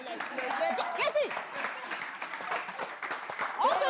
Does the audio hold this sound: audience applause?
yes